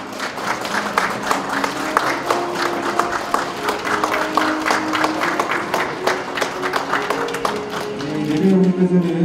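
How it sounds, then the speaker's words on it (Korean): An audience gives sustained, dense applause to welcome guests arriving at the opening ceremony of a software policy research institute. The clapping is loud and continuous, with an announcer's voice rising over it near the end. "큰 박수로 환영해 주시기 바랍니다."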